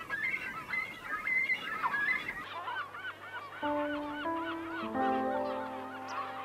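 Cormorants at Lake Baikal give a run of loud, honking, goose-like calls over the first half, then the calls fade beneath sustained, steady musical tones.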